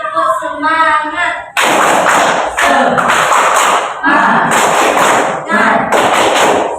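A class performing the rhythmic 'tepuk semangat' spirit clap, bursts of loud group clapping in patterned sets, alternating with short stretches of chanted voices.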